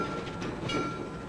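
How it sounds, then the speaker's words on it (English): Green Mountain Flyer tourist train on the Bellows Falls branch in Vermont rolling along the rails, a steady close rumble with faint rhythmic clatter and no talk over it. "The Green Mountain Flyer carries passengers through historic Vermont landscapes from Bellows Falls to Chester and back."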